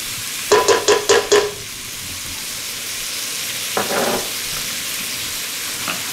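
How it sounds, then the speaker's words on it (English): Sliced Zumo sausage and chopped garlic fry in a pan with a constant, loud hiss. Four quick squeaky scrapes come early, followed later by a couple of fainter ones, all over the continuous sizzle. "I'm taking 3 links of the Zumo sausage sliced and throw it in there"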